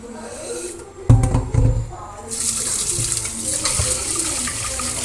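Tap water runs into a kitchen sink while toor dal is rinsed, a loud steady splashing rush that swells after a quieter start, with handling noises mixed in.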